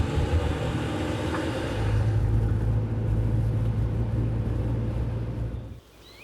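Steady low engine rumble of a car driving on a road in rural Spain, a continuous drone with road noise that holds for several seconds before dropping off sharply near the end.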